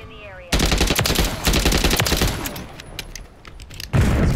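Heavy gunfire from an SSG rifle in the video game Modern Warfare III, loud rapid shots in near-continuous bursts with a short pause before a final blast.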